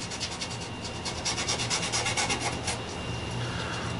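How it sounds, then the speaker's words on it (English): Wood is rubbed by hand with purple Angelus leather dye for a second coat, a steady close scratchy rubbing in repeated strokes with no talking. "I'm just going to rub whatever I've got on here for coat two."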